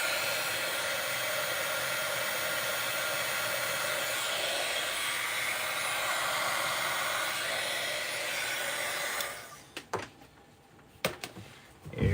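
A craft heat tool blows hot air onto the back of a card, a loud continuous whooshing roar for about nine seconds that then cuts off, leaving a few faint clicks and handling noises.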